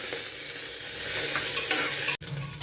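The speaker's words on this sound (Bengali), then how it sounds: "এরপর কাজু কিশমিশটা দিয়ে দিলাম।" Cashews and raisins fry in a pan for a vegetarian Bengali bhuna khichuri, giving a steady close sizzle with soft scraping of a stirring spoon, broken by a brief silent cut near the end.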